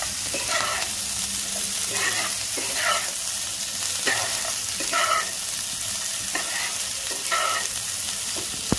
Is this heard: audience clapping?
no